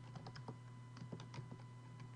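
Quiet, close clicking of keys on a computer keyboard, several quick irregular keystrokes over a steady background hum with no talking.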